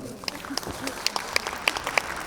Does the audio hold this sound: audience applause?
yes